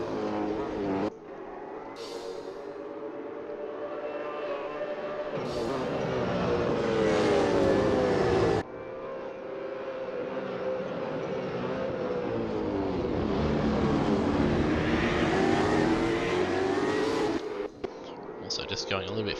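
Supercars race engines at Sandown Raceway rise and fall in a loud, sustained roar as the cars pass, with commentary voices running over the noise.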